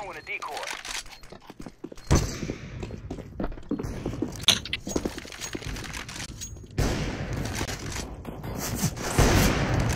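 Rapid bursts of simulated gunfire from a decoy grenade in the video game CS:GO, crackling steadily through most of the stretch amid other game noise, with players talking over it.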